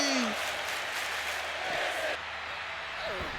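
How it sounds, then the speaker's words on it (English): A roaring video-game arena crowd in WWE 2K25 fills the air with a dense, steady wash of cheering and chanting, loud and continuous throughout, with a brief dip before it carries on. "This crowd chanting, "This is awesome.""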